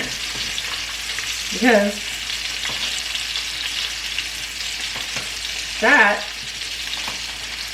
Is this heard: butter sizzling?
yes